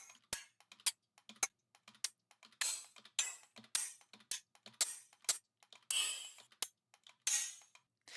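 Layered synthesized hi-hats, with a sharp transient layer and a sidechained body layer that swells in behind it. They hit in a quick, irregular rhythmic pattern, and each short crisp tick trails into a brief airy tail. They are quiet and play alone.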